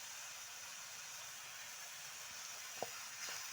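Potato curry frying in a pan gives a steady, even sizzle and hiss from start to finish, close and continuous, with one or two small taps near the end.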